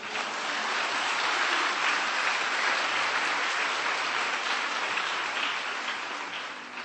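A church congregation applauds during a Sunday service, a broad sustained roar of many hands clapping together that holds steady for several seconds before easing slightly at the end.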